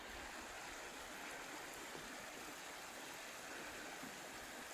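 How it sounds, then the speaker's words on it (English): Mountain stream water flowing near a snowy winter camp on the Bhrigu Lake trek, a faint, steady hiss that holds unchanged throughout, with no voices. "Flowing water."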